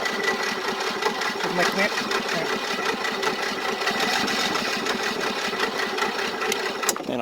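An old riding lawnmower engine cranks over and over on its starter, giving a continuous grinding mechanical churn, close and loud, with someone talking over it.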